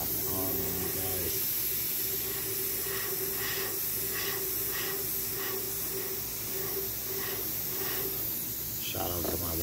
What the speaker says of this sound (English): I apologize for the hissing sound.